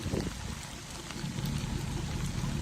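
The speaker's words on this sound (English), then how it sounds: "Yes, it's raining." Steady rain pours onto roadside runoff water beside a rural property, a dense continuous patter and trickle with a low watery rumble throughout, no voices.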